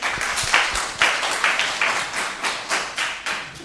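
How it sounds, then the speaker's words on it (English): A small audience at a property tax appeal meeting claps in a sparse, uneven patter of individual hand claps lasting a few seconds, with no talk over it. "Let's give the assessor a round of applause"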